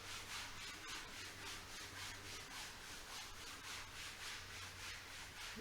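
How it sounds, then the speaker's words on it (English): Hands rub briskly back and forth along the thighs during a yoga flow, a soft, close, rhythmic swishing of skin on fabric repeating about twice per second. "Begin to rub the hands along the thighs, create a little heat, a little friction."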